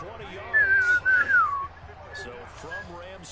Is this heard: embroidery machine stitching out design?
no